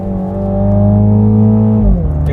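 A 2021 Mini JCW GP engine held high near its red line, a steady loud drone with rich harmonics that drops off as the throttle lifts near the end; no talking.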